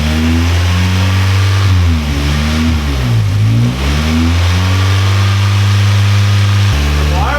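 A boosted Nissan KA24 engine in a 240SX, just after its first start, runs loud and close with steady revs that dip and climb again, like a blip of the throttle, then settle back to a high idle.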